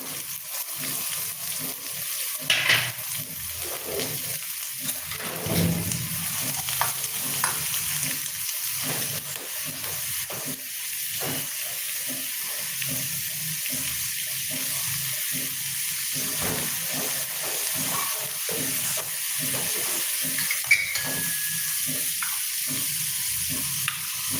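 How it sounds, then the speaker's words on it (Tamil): A steady, soft sizzle of large onions frying in a pan, continuous and close, with a few faint clinks and stirring sounds. "வெங்காயத்தை போட்டுட்டு போயிடலாம் போட்டால் வதங்கிட்டு இருக்கும்"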